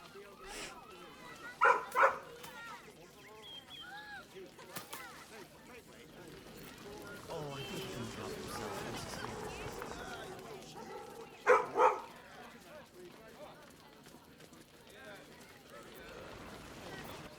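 A dog in Baldur's Gate 3 gives two short pairs of sharp barks several seconds apart, amid soft game ambience and a voice speaking.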